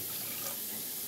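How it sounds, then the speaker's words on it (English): Two cups of water pour into a pot for ramen, a steady, close splashing rush that fills the whole short moment with no talk. "Pour in 2 cups of water"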